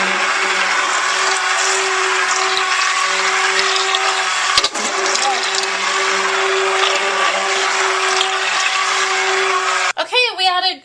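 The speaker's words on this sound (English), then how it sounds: "now we're gonna blend it up." Blender whirring steadily as it mixes lavender soap batter made with shea butter and sunflower oil, a loud continuous motor drone with a brief dip midway and a sputtering change as it winds down near the end.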